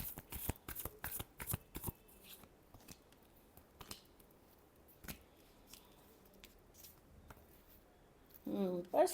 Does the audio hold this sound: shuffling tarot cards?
yes